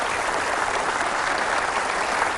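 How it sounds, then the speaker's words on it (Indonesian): Steady, dense applause from a large audience at an evening motivational talk show, filling the whole stretch at even loudness with no voices over it. "mari kita berikan tepuk tangan"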